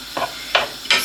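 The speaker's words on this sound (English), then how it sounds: "So I'm just gonna fry that off for a couple of minutes." Chilli con carne ingredients frying in a hot pan, a constant loud sizzle broken by three distinct scraping stir strokes, close up with no talking.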